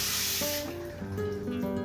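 Water sprays steadily from a shower head during a test run, a continuous hiss heard close up and fairly faint, with a soft tonal hum underneath.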